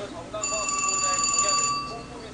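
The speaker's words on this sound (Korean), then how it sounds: "지금 일단 전화 왔다." A telephone rings with an incoming call, a bright electronic tone held for about a second and a half, close and clear, with some talk faintly around it.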